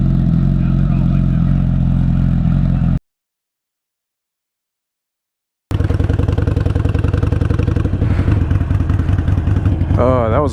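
A used 2008 motorcycle engine runs loud and close with a rough, chugging idle, cuts out into silence for a few seconds, then fires up again and keeps running unevenly.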